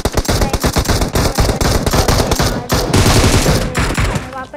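Rapid automatic gunfire in a shooter video game, dense bursts of shots rattling almost continuously at close range, loud, with a short lull before the firing resumes.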